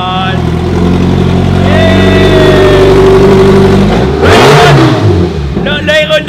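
A swapped drift car's engine revs hard and steadily during its first burnout, rising pitch sweeps over a dense roar, with a sudden loud burst near the end as people call out nearby.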